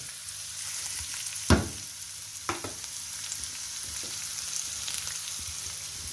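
Ginger, crushed garlic, green chilli and curry leaves fry in hot oil for a duck roast, giving a close, continuous sizzle broken by a few sharp spattering pops.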